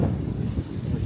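Steady wind buffets the microphone on a beach in front of a villa in the Bahamas, a constant low rumbling roar with gusty swells, close and fairly loud, with no voices.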